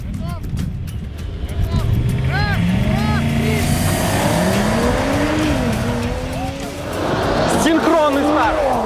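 BMW M550d, Mercedes-AMG E53 and Audi A7 stage 1 launch together in a drag race, engines roaring loudly and rising through gears, with tire squeal and a commentator talking over the noise.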